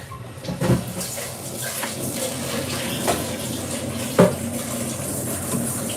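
Hot tap water runs steadily into a pan set to soak with a bit of salt in a home kitchen, a continuous close splash with a few clinks of the pan.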